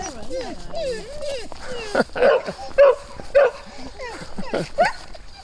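Excited dogs on a walk give a string of sharp barks and yips with whimpering between them, close and loud, while people talk over and around them.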